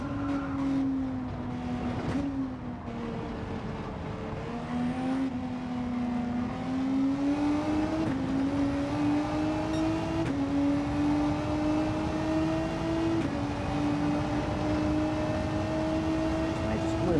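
A Porsche race car engine in Gran Turismo 7 drones steadily near and loud, pitch rising and dipping through gear shifts while someone commentates over it.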